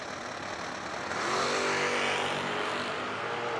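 A wheel-standing Camaro launches in a bracket drag race at a dragstrip, its engine roaring loud and sustained and rising in intensity with no voices over it.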